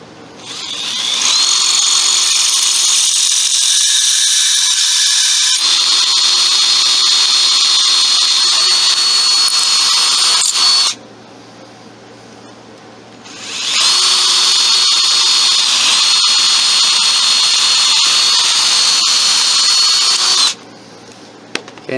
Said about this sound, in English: Okay, now that we have the holes bored,